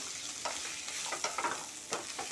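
Sliced brinjal (vankaya) sizzles and fries in a pan with a squeeze of lemon, a continuous close hiss broken by soft stirring scrapes, with no voices.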